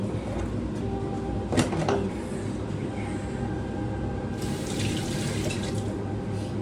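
Hands washed under a running tap at an unlimited barbecue food outing, a steady close rush of water with a brief clatter near the middle and a brighter splashing surge toward the end.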